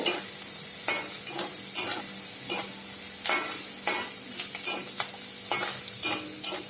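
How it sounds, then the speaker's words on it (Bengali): Chopped garlic, onion and green chilli fry in a pan for a ridged gourd patori, with a steady low sizzle broken by repeated sharp scraping strokes of a spatula stirring the mix, and no talk. "রসুন পেঁয়াজ কাঁচা লঙ্কা কুচানো দিয়ে দিয়েছি একটু লাল হবে লালচে লালচে"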